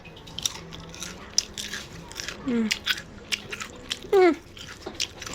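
Banana dipped in Rosdee seasoning being bitten and chewed up close, moist crunching and smacking in irregular bursts, with a few brief vocal sounds in between.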